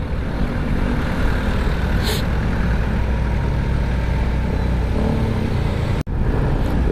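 Heavy Monday road traffic with cars and trucks keeps up a constant loud rumble of engines and tyres, with passing vehicles and a brief higher whine partway through, and no voices.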